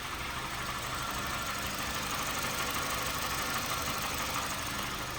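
A Honda Fit engine idles steadily with a continuous broadband rumble and a faint repetitive knocking running through it, recorded close with no talking.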